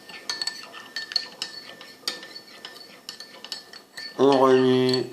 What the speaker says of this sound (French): vous utilisez la petite cuillère et vous remuez